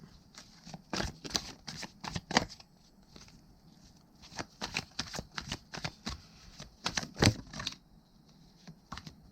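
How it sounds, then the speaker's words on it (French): Tarot cards being handled and flipped on a table, a string of quick, crisp papery snaps and flicks in irregular bursts, fairly close, with no speech. "la carte qui se retourne"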